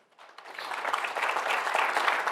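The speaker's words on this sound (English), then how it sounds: "You get a nice round of applause." An audience at a magic talk breaks into applause, the clapping building quickly from silence into a steady, dense patter.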